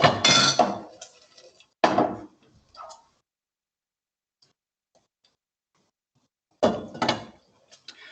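Pasta being stirred in a cooking pot, with a few close clattering bursts of utensil against metal separated by long silent gaps.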